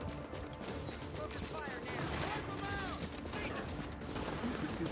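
Steady gunfire from a squad-based shooting video game, Tomato Team: Rogue Chronicles, crackles continuously through the mix with several players' voices talking over the shots.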